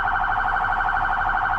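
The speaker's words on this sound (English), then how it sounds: "This can chirp or beep the siren" A police car siren gives a short electronic chirp, a steady warbling tone held close and fairly loud, with no voices.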